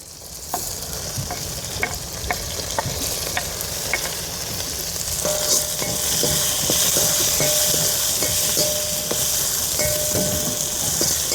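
Whole onions and garlic frying in oil in a pan for Kerala-style dry fish curry, a steady sizzle that grows louder midway, with repeated scraping stirs of a ladle against the pan.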